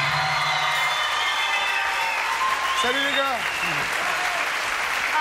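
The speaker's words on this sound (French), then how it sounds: "Ok, applaudissements, Ciao." A TV studio audience gives loud, continuous applause for Charlie and Lulu, a dense wash of clapping mixed with some crowd noise. A voice speaks briefly over it.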